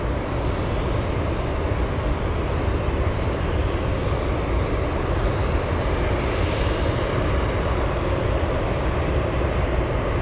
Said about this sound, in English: And we have a very special Cathay 747.